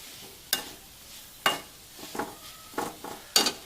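Radish leaves and chopped radish sautéed in a pan: about half a dozen separate scraping stirs, each a short brushy sweep over a quiet, faint sizzle.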